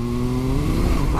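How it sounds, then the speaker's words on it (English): Kawasaki Z-H2 SE supercharged motorcycle engine revving through its rasping exhaust while riding on the road, a steady close, loud engine drone with rising tone throughout and no talk. "that exhaust does have a bit of a rasp to it"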